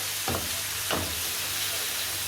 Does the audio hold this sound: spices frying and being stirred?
yes